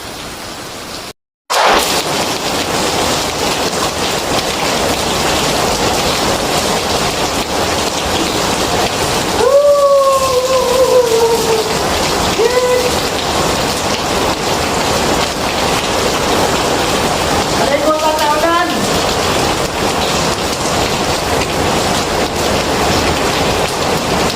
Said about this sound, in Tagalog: Grabing ulan, lakas ng hangin oh.